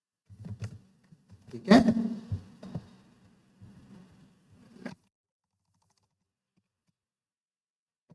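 Keys on a computer keyboard clatter in short bursts while Python code is typed, sparse quiet taps mixed with a man's brief spoken words, then silence.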